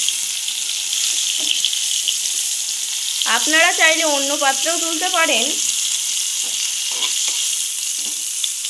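Cauliflower fries in oil in a home kitchen pan, giving a steady, close hiss of sizzling that runs unbroken from start to end while someone speaks briefly over it midway.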